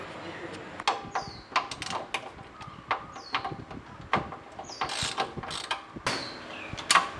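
Ratchet turning to tighten a bolt on a Proton Inspira air-conditioning condenser, giving a series of close, sharp clicking bursts in uneven rhythm over a quiet workshop background.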